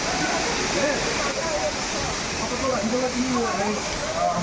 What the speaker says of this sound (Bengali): এখান থেকে ওয়াটারফলের মজাটা নিই